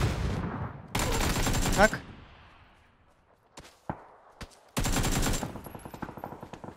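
Two loud bursts of automatic gunfire in PUBG, each lasting about a second, separated by quieter shots and short pops, with a voice briefly in between.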